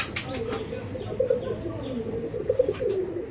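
Pigeons kept for sale on a breeder's premises coo softly and continuously, low murmuring calls in the background with some rustling and faint voices nearby.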